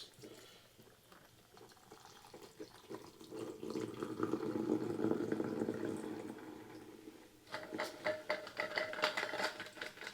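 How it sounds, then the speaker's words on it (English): A hurricane cocktail is poured into a glass, a soft liquid trickle that swells and then fades. A brief pause follows, then a closer burst of clinking, rattling sounds. "We're going to pour this right into the glass."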